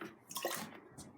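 Universal indicator liquid is poured into a container of vinegar, giving a brief, close, splashy trickle that swells and fades within about a second.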